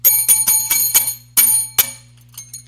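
An old bell struck repeatedly, about eight sharp metallic rings in an uneven rhythm with long bright ringing tails, close and loud, then a couple of fainter taps at the end.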